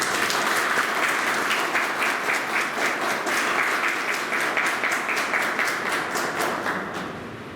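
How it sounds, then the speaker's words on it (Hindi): Sustained applause from a crowd at a Gorakhpur city event, dense and steady clapping that fills the whole stretch before slowly tapering toward the end. "जोरदार तालियां बजाओ।"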